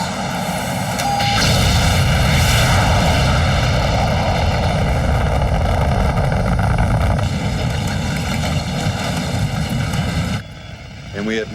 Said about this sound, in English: Separation successful, firing booster rockets.